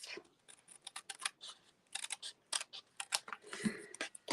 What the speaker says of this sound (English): So I'm going to cut this part off.